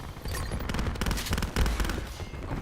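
Dense video game match gunfire, overlapping rapid shots and bursts crackling loudly and continuously, with no talking.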